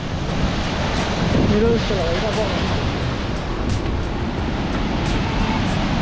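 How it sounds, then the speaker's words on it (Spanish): Rushing water of the Casaño river pours steadily down a mountain gully in a loud, continuous roar, with someone talking briefly over it. "Mira cómo baja por ahí el agua,"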